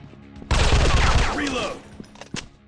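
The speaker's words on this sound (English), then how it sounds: "Shot." Rapid gunfire in a robot-themed first-person shooter, a sudden loud burst of automatic shots that rattles for about a second and a half, then tapers into scattered pops.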